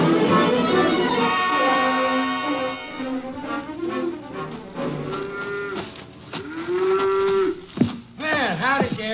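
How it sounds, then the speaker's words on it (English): A cow moos loudly and repeatedly during milking on a farm, with long drawn-out bellows close by and no talk over them. "Let go of that cow for a minute, Luther."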